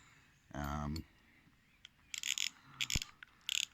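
The drag on a Lidl Crivit 5000-S baitrunner fishing reel is tightened. Short bursts of close ratcheting clicks follow a brief spoken phrase, with sharp clinks between them.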